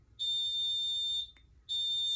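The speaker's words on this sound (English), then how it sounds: "y'all excuse that beeping over there" A high-pitched electronic tone sounds in two long beeps separated by a short gap, steady and piercing against a quiet background.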